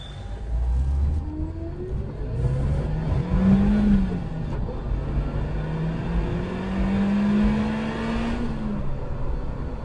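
A Carver One tilting three-wheeler drives off, its engine climbing in pitch through two long accelerating pulls with a gear change between them, a steady car-like whir heard from inside the moving vehicle.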